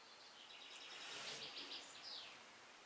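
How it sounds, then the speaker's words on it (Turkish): Faint birdsong with quick chirping trills and warbles rises and falls against a quiet outdoor hush. "şu kuşun sesine bak"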